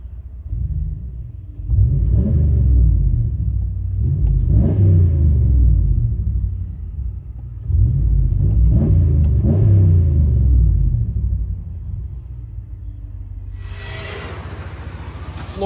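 A RAM 1500 pickup with a 5.7L HEMI V8 and Flowmaster Outlaw exhaust revs repeatedly, deep raspy bursts swelling and falling in several loud pulls, followed by a steadier idle rumble with a brief hiss near the end.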